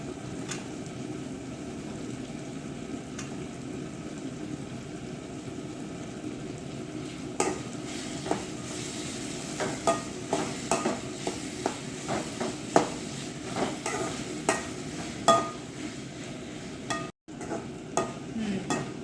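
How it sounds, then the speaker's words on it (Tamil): Turkey berries (sundakkai) are stir-fried in a pan with softened tomato and onion, a steady close sizzle running throughout, joined later by irregular scraping and clacking of the spatula against the pan. "இப்போ சுண்டைக்காய் போட்டு வதக்கிக்கணும்."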